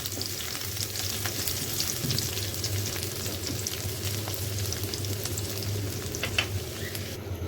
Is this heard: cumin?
yes